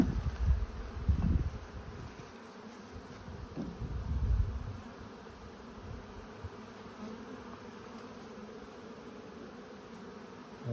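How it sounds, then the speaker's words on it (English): Honey bees buzz thickly around a brood nest frame pulled from the hive, a constant close drone with a few louder low thumps and swells early on as the frame is handled. "A lot of bees on that one."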